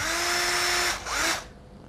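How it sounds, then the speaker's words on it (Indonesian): Makita drill with a faulty gearbox, motor spinning but the chuck not turning, gives a steady close whine that cuts off near the one-second mark, briefly revs again and then winds down. "Makita saya ini caknya nggak mau muter, tapi mesinnya nyala"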